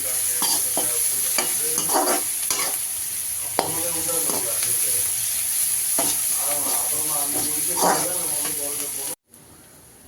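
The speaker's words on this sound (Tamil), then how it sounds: "இது நல்லா வதக்கணும் இந்த வெங்காயம் பொன்னிறமாக ஆகணும் அது வரைக்கும்" Onions sautéing in a pan to golden brown for ragi semiya, a steady sizzling hiss with stirring scrapes throughout, close and continuous, while a voice talks over it.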